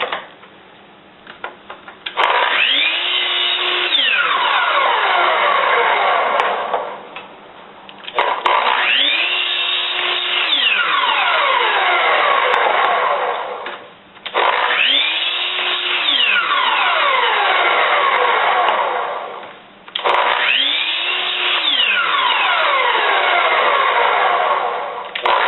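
Power saw cutting wood blocks for a block rim, quarter-sawn so the grain runs the same way; four loud sustained cuts of about four to five seconds each, separated by brief pauses as the motor spins down and restarts.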